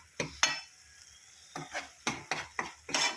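Spice paste frying in oil in a pan for a Kannada-style curry, with irregular scraping stirs and clinks of a utensil against the pan over a soft sizzle, close and without talk.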